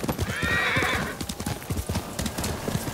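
A horse in the Ghost of Tsushima video game gives a clear, rising whinny, followed by a run of rhythmic hoof clip-clops, close and moderately loud with no speech over it.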